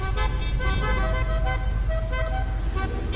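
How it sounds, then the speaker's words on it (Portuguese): Car horns honking repeatedly in GTA 5 Online on Xbox 360 during a motorcycle race at a construction site, loud layered toots over a constant engine rumble. "Ah, malditas buzinas."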